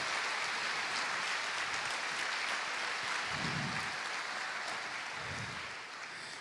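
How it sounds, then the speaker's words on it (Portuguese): A congregation gives a strong round of applause during a sermon, a continuous, even wash of many hands clapping at moderate level, with a couple of low thumps underneath as it slowly winds down. "Dê para Jesus e para vocês uma forte salva de palmas."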